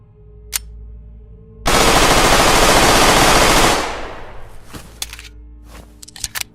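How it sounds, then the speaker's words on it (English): A G18C pistol fires a single, unbroken, fully automatic burst in the Dead Matter video game, a loud roar lasting about two seconds after a quiet start. An echoing tail and scattered sharp clicks and clanks follow. "The G18C, a rare, late-game weapon that must be looted from a bunker. The rate of fire on this thing is downright scary."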